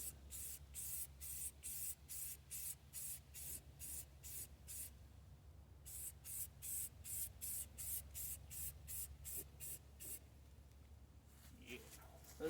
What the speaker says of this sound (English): this little spraying into the inside of it definitely makes a whole lot of fumes